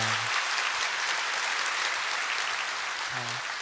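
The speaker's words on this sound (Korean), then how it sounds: "박사님께 감사의 박수를 드리도록 하겠습니다" A church congregation claps during a Sunday worship service, with dense, sustained applause filling the room and faint voice fragments at the edges.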